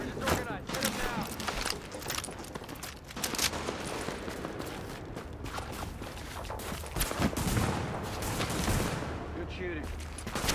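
Gunfire rattles in Tom Clancy's The Division, dense bursts and scattered shots crackling steadily through the scene while voices talk over the fighting.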